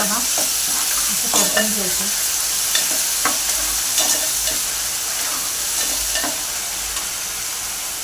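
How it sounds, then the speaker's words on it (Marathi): Curry leaves and paste sautéed in a pan for a spicy dried Bombay duck curry, a steady hiss of frying oil broken by repeated scraping stirs and spatula knocks at irregular intervals. "कढीपत्ताही टाकून घेऊया आणि दोन मिनटं चांगलं परतून घेऊया"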